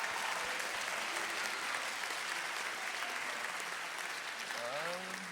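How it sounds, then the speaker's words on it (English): An audience at a business incubator pitch night claps in a steady, even wash of applause at moderate distance, with a voice rising near the end. "Let's give them a round of applause"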